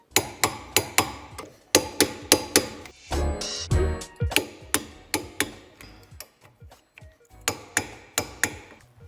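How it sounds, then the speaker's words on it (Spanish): Metallic clicks and taps from a torque wrench tightening 12 mm tow hitch bolts to 87 Nm on a 2007-2016 Volkswagen Tiguan, in quick rhythmic bursts with a brief grinding rattle midway, close and fairly loud. "Apretaremos los tornillos de 12 con la dinamométrica a 87 Nm."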